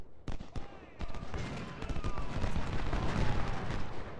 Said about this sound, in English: Okay, there's a little bit of return fire there.